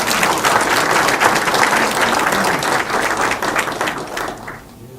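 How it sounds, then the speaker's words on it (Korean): Guests at a landscape architects' New Year gathering give a round of applause, a dense crowd clapping loudly and continuously before fading out near the end. "잘 부탁드린다는 의미에서 다시 한번 박수 부탁드리겠습니다."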